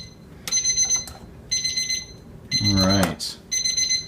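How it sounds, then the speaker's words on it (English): A kitchen alarm beeps in repeated bursts of high, even tones while steak is being cooked, close and loud. Someone speaks briefly, and a short clattering noise falls between the bursts. "hopefully let's kill that alarm"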